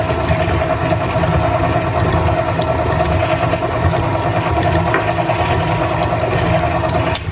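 A stand mixer beats banana bread batter with eggs, giving a continuous, loud, even motor hum with a soft rhythmic churning that holds steady throughout, with no voices.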